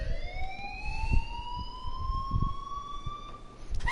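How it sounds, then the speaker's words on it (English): An alarm rings in the video game Life Is Strange, a continuous rising siren-like wail that holds steadily over faint low background thuds and rumbles. "please turn off that alarm since that's your job"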